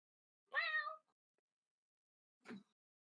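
A cat gives one clear, fairly close meow, then a short quieter chirp follows after a pause, in an otherwise silent room.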